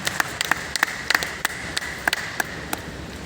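Sparse applause at an event welcoming a speaker, with a dozen or so distinct, sharp claps spaced irregularly over a few seconds in a reverberant room, fairly faint and without talking.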